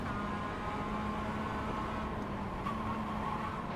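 Audi R8 6-litre race car in iRacing running behind on track, a steady engine drone with a sustained mid-pitched whine and no pause throughout.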